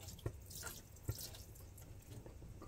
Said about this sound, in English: Oh yeah, it's dripping bad.